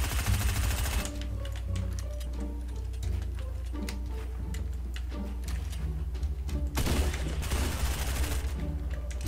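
Shotgun fire in the Fortnite Arena mode, loud blasts over a dense, continuous rattle of rapid gunfire and game noise, with heavier bursts at the start and again later.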